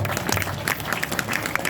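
Audience clapping at a religious gathering, a steady even patter of many hands throughout, moderately loud and continuous with no clear voices.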